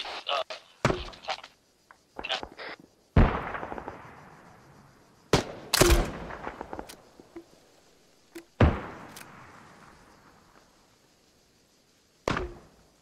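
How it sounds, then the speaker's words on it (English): Grenade and M203 grenade launcher fire in the game Arma 3 at an airfield control tower: a series of sharp loud thumping blasts with ringing decays, irregularly spaced, alone without talk. "grenades and M203s at the ATC tower"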